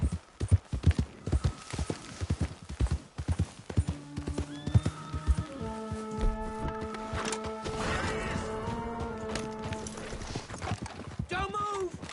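A horse gallops in Red Dead Redemption 2, its rapid hoofbeats drumming close and loud, then a drawn-out neigh and whinny sounds over the steps while someone speaks briefly.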